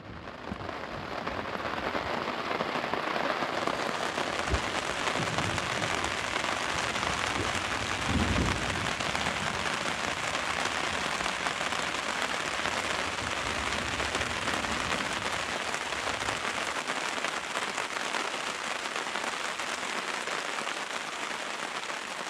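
Steady rain drums on the roof of an RV during a storm, a dense continuous hiss with a few heavier thumps, fairly loud and close, with no talking.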